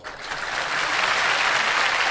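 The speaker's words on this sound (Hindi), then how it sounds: "ताली बजाओ।" A crowd at a spiritual health discourse claps together, the applause swelling quickly and then holding dense and steady to the end.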